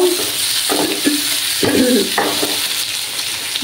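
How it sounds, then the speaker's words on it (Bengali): A spoon stirring a paste of cumin and coriander powder mixed with water in a hot pan for fish curry, giving a few soft scraping strokes over a steady sizzle, close and moderately loud, with no talk. "একটু নাড়াচাড়া করে দেবো।"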